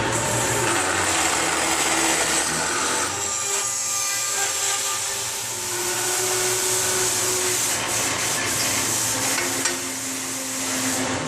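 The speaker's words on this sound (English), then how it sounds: "See how the saw is set on an angle to cut it" A saw set at an angle cuts a steel header tube to length, giving a steady, loud, grinding rasp that runs unbroken for the whole stretch with no voices.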